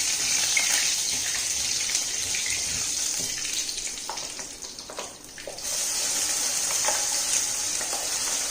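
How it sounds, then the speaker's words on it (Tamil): Curry leaves are dropped into hot cooking oil and give a steady, close, bright sizzle that dips briefly near the middle before crackling on evenly to the end. "இப்போ இந்த எண்ணெயில் 4 கருவேப்பிலையை பிடிச்சி போட்டுருவோம்."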